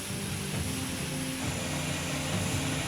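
Hercules military transport aircraft landing with relief supplies at Minangkabau International Airport in Padang, West Sumatra, giving a steady, loud propeller and engine roar that holds throughout with no talk.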